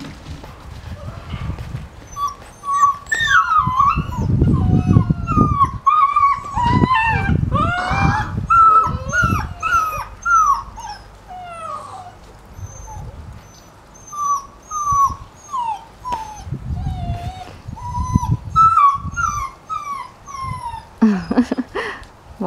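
Young puppies at a kennel whimper, yip and squeal continuously while playing, close and fairly loud, with occasional thumps and scuffling between the cries.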